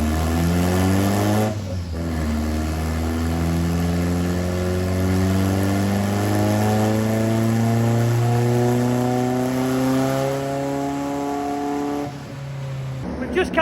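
A Vauxhall VXR Astra van's engine is run hard on a dyno, climbing in one long, loud, steady rising pull through the gears before cutting off sharply near the end.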